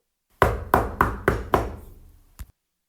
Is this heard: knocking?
yes